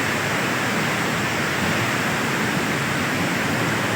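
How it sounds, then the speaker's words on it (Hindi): Water rushes in a stream with waterfalls beside a mountain trail near Ratti Gali lake, a loud, steady, unbroken roar with no talking. "साथ में पानी चल रहा है"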